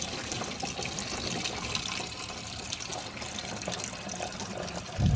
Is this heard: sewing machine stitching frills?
no